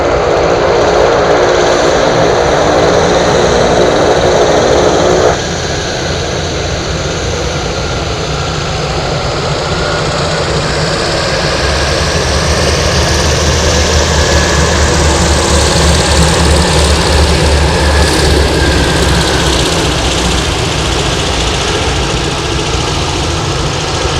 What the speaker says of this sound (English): DC-3 landing.